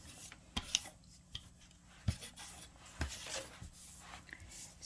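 Scissors snip around a planner sticker in a few quiet, separate cuts mixed with soft rustling of paper, close and faint, with no one speaking.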